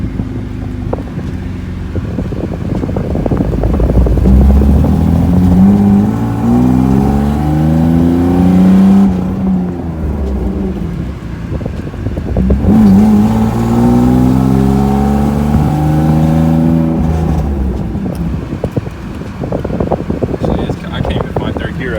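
A BMW E36 drift car accelerates through its gears, the engine note climbing in long rising sweeps with pauses between shifts, loud and close with wind noise throughout.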